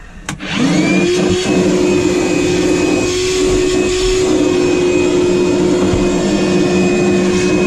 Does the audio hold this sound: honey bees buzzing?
no